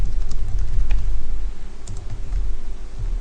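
Computer keyboard typing during a programming session, a quick run of light clicking keystrokes close to the microphone over a faint steady hum, with no talking.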